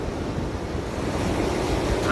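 Ocean surf rolls and breaks at a beach near the Jagannath temple in Puri, a steady broad wash with wind buffeting the microphone and swelling slightly toward the end; no one speaks.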